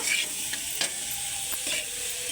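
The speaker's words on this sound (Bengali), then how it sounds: "এবার কেটে রাখা আলুগুলো দিয়ে দেব। একটু ভালো করে কষে নেব।" Cut potatoes and spices frying in a pan, a steady close sizzle with a few scraping stirs of the spoon across the pan.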